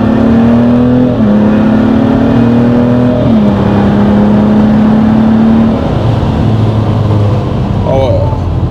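A BMW 335d diesel with stage 3 tuning accelerates hard from inside the cabin. Its steady engine drone climbs through gear changes while people talk over it.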